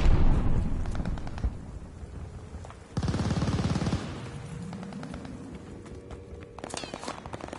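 Gunfire in Call of Duty Vanguard, loud bursts of rapid automatic fire and single shots crackling in close succession, with a dense louder stretch in the middle and a whooshing sweep as it trails off.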